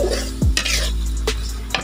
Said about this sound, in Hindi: इसको भी हम डाल देंगे, थोड़ी देर भूनेंगे अच्छे से।